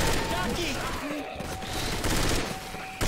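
Rapid gunfire bursts in the zombie shooter Left 4 Dead 2, set in a haunted forest, crackling densely over dense game noise with voices chattering beneath.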